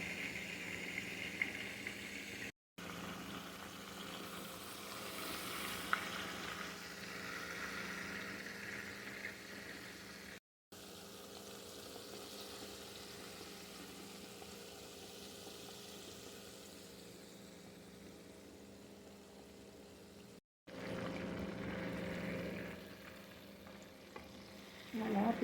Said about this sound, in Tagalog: Ganito sila mag-prito dito.